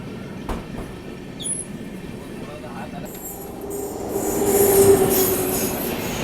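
A Central Railway Rajdhani express train approaches along a rural Maharashtra line in summer, its rumble swelling from faint to louder with a brief high wheel squeal near the end.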